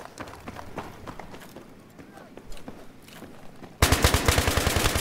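Gunfire from the video game Battlefield 3 sounds as rapid automatic bursts, faint and scattered at first, then a sudden loud close burst of rhythmic shots near the end.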